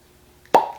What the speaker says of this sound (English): this is a fresh cork pop here on Bourbon Quest